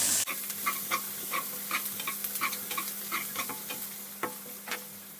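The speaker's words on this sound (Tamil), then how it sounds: "அதனால் வெங்காயத்தை வந்து நல்லா பொன் நேரமாக வறுத்துக்குவோம்." Onions fry until golden for a prawn masala gravy, a constant hissing sizzle close by, punctuated by frequent light scrapes and taps of a stirring spoon against the pan, no speech.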